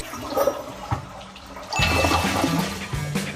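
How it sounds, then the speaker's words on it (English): A toilet flushes with a loud rushing surge of water that swells midway and keeps gurgling, heard close in a bathroom reached through a backyard at night. "The toilet flushes."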